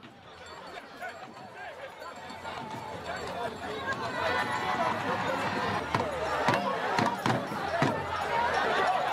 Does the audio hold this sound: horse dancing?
yes